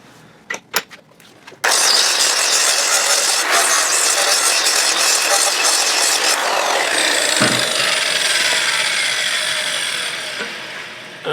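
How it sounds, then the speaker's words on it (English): A 9-inch angle grinder works a steel surface in a welding shop. A few sharp knocks come first, then loud, steady, close-up grinding runs for about ten seconds and eases slightly toward the end, with no talking. "That's a 9-inch grinder."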